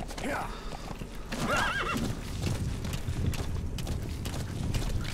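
A horse in Metal Gear Solid V: The Phantom Pain clops along with steady hoofbeats and lets out a high whinny early on, under continuous game background noise.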